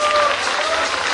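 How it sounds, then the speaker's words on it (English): An audience at a state sports talent programme launch in Meghalaya gives loud, sustained applause for the athletes. A faint tone runs beneath the clapping, and a voice may be partly audible. "A big round of applause"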